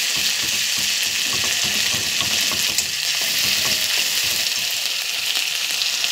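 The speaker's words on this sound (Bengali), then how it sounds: "তারপরে আমি রসুন বাটা দিয়ে দিচ্ছি।" Garlic paste fries in a hot pan with a loud, constant sizzle and crackle, close up and uninterrupted, with no voices.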